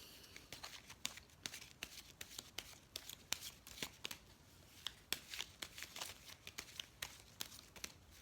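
Oracle cards being shuffled by hand, a steady series of soft papery riffles and snaps, close and quiet, with no talking.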